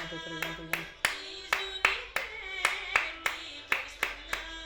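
Hands clap in a steady rhythm, about a dozen sharp claps over the span, keeping time with Greek folk music from a Balkan region that plays throughout underneath.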